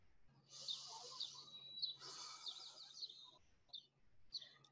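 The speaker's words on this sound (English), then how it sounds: "these birds are so loud" Birds sing outdoors in a series of quiet, high chirping phrases and twittering bursts, with a faint steady low hum beneath them.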